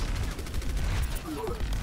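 Frantic gunfire from an Overwatch match, with rapid bursts of shots crackling in dense succession and voices talking over the chaotic game mix.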